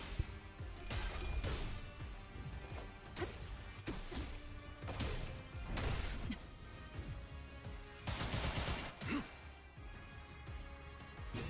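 Gunfire and heavy impacts in the video game Limbus Company come in a series of loud, clustered bursts, separated by short pauses over a busy game soundtrack.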